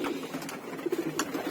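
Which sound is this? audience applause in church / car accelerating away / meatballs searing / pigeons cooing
pigeons cooing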